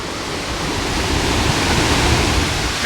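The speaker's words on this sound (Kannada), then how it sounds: "ಇಲ್ಲಿಂದ ನೀರು ಬಿದ್ದರೆ ಟ್ರ್ಯಾಕ್ ಮೇಲ್ಗಡೆನೆ ಅಷ್ಟು ನೀರು ಬೀಳ್ತದ್ರಿ" Dudhsagar waterfall pours down in a dense, continuous roar of rushing water, loud and close, with no voices over it.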